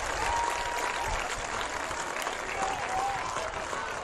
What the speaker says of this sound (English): Let's give these teachers a round of applause for making our kids successful.